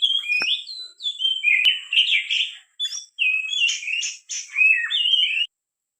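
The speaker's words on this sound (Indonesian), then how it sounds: "Ini belum apa-apa sudah langsung turun aja nih burung" Oriental magpie-robin calling at a bird-trapping spot, a close, loud run of bright whistled phrases and chirps in quick bursts lasting about five seconds, then stopping.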